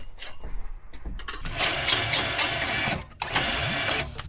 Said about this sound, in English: we go to the round machine and round it a little bit